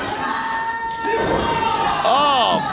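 Wrestling crowd at a WWN Proving Ground event chanting loudly in a packed venue, voices swelling steadily with a commentator talking over it.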